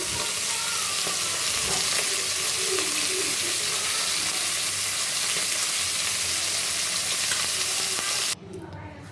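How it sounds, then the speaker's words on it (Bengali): Poa fish coated in turmeric and salt fry in hot oil, giving a loud, dense, continuous sizzle that drops away abruptly near the end. "দেখো মাছগুলোর এক পিট ভাজা হয়ে গেছে আমি আর এক পিট উল্টে দিলাম"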